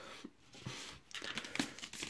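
Scissors cut through plastic blister packaging of Pokémon XY Evolutions card packs, two packs at a time, giving close, quiet crinkling and crackling with a few sharp snips and tears.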